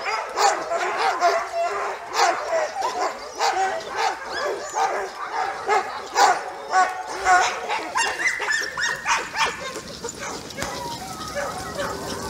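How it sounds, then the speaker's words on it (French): Impatient sled dogs before a training run bark, yip and whine in an excited chorus, rapid overlapping barks near and far, continuing loudly for the whole stretch. "Et les chiens ils gueulent parce que ils sont impatients"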